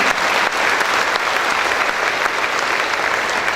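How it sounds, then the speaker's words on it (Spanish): A loud, dense, continuous ovation rises from the crowd at a diocesan gathering of Sacred Scripture students, applauding the institute's students. It holds steady and full from start to finish. "Vamos a darle un fuerte aplauso a los del instituto"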